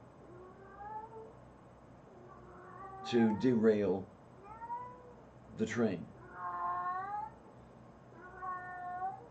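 Cat meowing and caterwauling with several drawn-out, wavering yowls spread across the stretch, a couple of loud close cries in the middle, while a person talks over and between them indoors.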